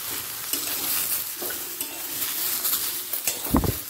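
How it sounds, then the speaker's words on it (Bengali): Vegetables mixed with turmeric and salt are stirred in a pan, with soft sizzling and repeated scrapes and clinks of a spoon against metal, ending in a sharper knock. "হলুদ আর লবণটা সবজির সাথে"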